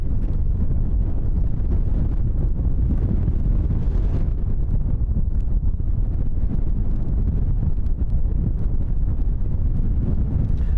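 A northwesterly wind blusters across the microphone at Christchurch airport, producing continuous loud, low buffeting rumble that fluctuates slightly but never lets up, with no other distinct sounds emerging.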